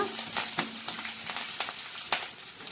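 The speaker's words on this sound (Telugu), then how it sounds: "కరివేపాకు కొంచెం చిట్పట్ అన్న తర్వాత" Curry leaves splutter and crackle in hot oil during tempering for a ridge gourd and moong dal curry, a steady close sizzle broken by sharp irregular pops, with no talking.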